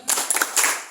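A group gives a quick rhythmic cheer clap, a few sharp bursts of hands striking together in close succession, near and fairly loud, with no talk over it.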